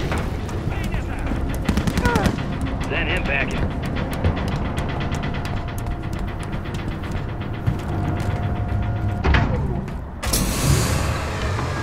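Rapid enemy gunfire in the Modern Warfare 3 video game, dense bursts of shots repeating over a constant loud battle din, with radio-style voices talking throughout.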